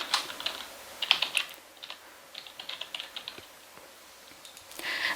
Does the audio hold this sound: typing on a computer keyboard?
yes